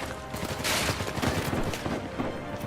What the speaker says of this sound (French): Attends, là je me prends des balles de derrière là.